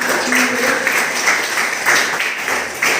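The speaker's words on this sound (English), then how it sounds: "Clap for team member." Steady applause fills the room, a crowd clapping continuously for a few seconds with a faint voice underneath.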